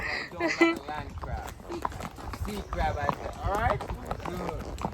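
Horse hooves clip-clop during a horseback ride in Jamaica, a fairly soft rhythmic clatter running beneath near, continuous conversation.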